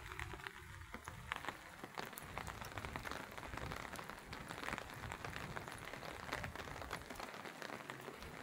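Steady rain falls throughout, a dense hiss of drops pattering on a surface, fairly close and continuous with no voices.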